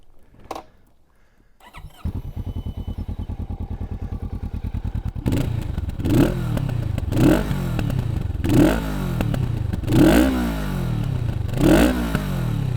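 A 2024 Kawasaki Vulcan S 650 parallel-twin motorcycle engine idles with a steady low throb, then revs up repeatedly in a series of rising, roaring bursts, close and loud.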